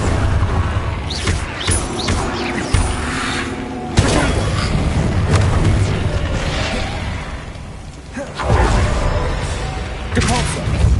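Repeated fire spell casts in Hogwarts Legacy on PS5, loud bursts and whooshing blasts with booming impacts over a dense game soundscape, several sharp onsets across the stretch, with a voice calling spell names.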